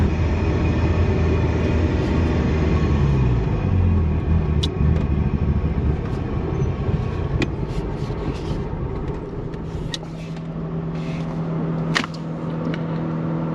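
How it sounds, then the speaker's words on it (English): Ferrari 308 engine running roughly at low revs, a loud close rumbling idle that dips and falters as it misfires and threatens to cut out, with faint clicks over the top. "you let it go too low and it's just cutting out, it's not firing low"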